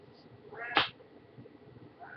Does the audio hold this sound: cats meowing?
yes